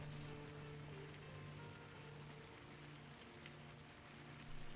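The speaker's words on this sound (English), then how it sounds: "I'm so tired of the rain in the game." Steady rain falling in the video game RuneScape: Dragonwilds, a continuous soft hiss with scattered drop ticks, fairly faint and even throughout with no talk.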